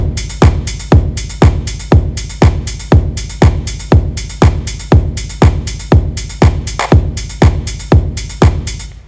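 Untreated mono drum pattern of two hi-hats and a clap repeats in a steady, fast loop, crisp sharp hits at an even tempo, loud and dry with no other sound.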